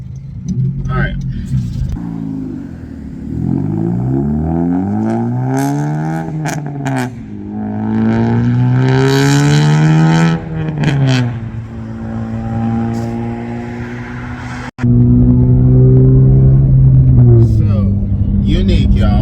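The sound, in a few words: 9th-generation Honda Civic driving and revving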